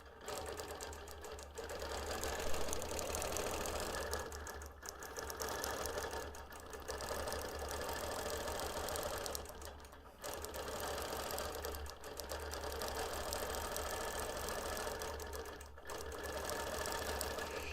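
A BERNINA Q-Matic quilting machine stitches an edge-to-edge crosshatch pattern, a steady rapid mechanical whir that pauses briefly every couple of seconds as the head changes direction.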